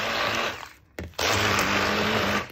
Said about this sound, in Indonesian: Terus gue pakai hand blender kayak gini, di mix semuanya.